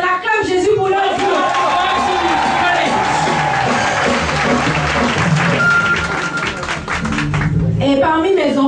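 A church congregation bursts into sustained applause and cheering for the children, with dense loud clapping and voices over it that fade briefly near the end.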